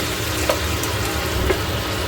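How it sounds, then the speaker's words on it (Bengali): Spice paste fries and is stirred in a pan with a splash of bowl-rinsing water for paneer curry, giving a steady close sizzle with soft stirring, no voices. "এবার এই জলটুকু দিয়েও কিন্তু আবার কষাতে হবে মশলাটাকে।"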